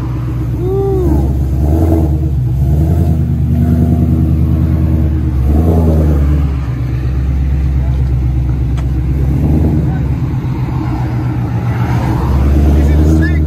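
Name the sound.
Ford Mustang Shelby GT500 engine revving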